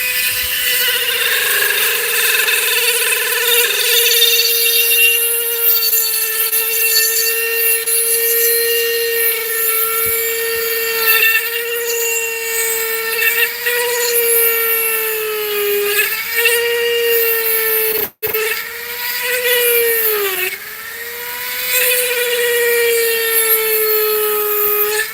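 A rotary tool drills through agate rock with a continuous high, harmonic whine. The pitch holds steady, dips briefly as the bit bears down, then stops for a moment before resuming, loud and close.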